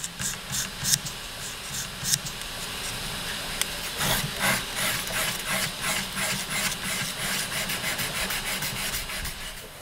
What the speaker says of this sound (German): hat jetzt hier mit der Feile geschliffen oder gefeilt